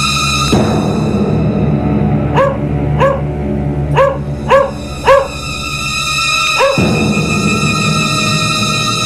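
A guard dog barks five times in a quick evenly spaced series, loud and close over a steady background hum of music.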